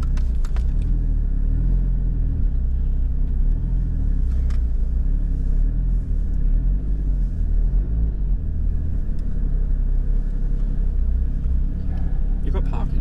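A GT4 race car engine rumbles steadily at low pitch throughout, with people talking over it inside the car.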